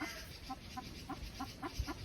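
A chicken clucks in a short, evenly spaced series of soft, close clucks, about six in two seconds, with no talk over them.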